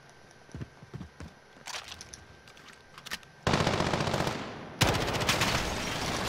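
Video game gunfire: scattered single shots, then a sustained rapid automatic burst that stops and restarts even louder, dense and close.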